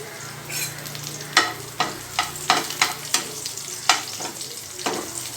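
Curry leaves hit hot oil with garlic, sizzling steadily while sharp crackling pops burst out at irregular intervals, close up, with no talking.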